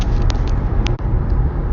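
Steady road noise inside a moving car, a constant low rumble and hiss with a few faint clicks and bumps, fairly loud and unbroken, with no voices.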